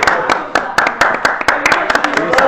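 Close, loud rhythmic clapping at a lively after-show event, sharp regular hand claps in a quick beat over a murmur of voices and background music.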